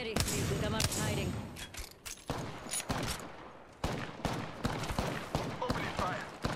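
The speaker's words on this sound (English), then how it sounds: "Opening fire. They're firing on me." Gunfire in the Apex Legends video game, repeated bursts of weapon shots coming in clusters with short pauses, with a player talking over the action.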